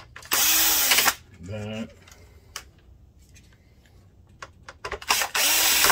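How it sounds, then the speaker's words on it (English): A powered screwdriver whirs in short bursts while removing screws from the mainboard of a Sony VPL-HW45ES projector, with clicks and handling in between, close up, and a brief word spoken midway. "So now all the screws are out."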